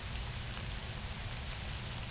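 Steady rain falls in the prison-building game Prison Architect, a constant even hiss of downpour with no breaks or voices over it.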